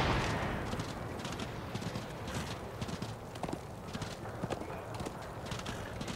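Horse hooves clip-clop in a steady rhythmic gait in the video game Darksiders, moderately close, with a continuous ambient background and no talking.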